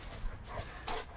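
A big Labrador gives short, soft whimpers, two brief faint whines close by in a quiet room.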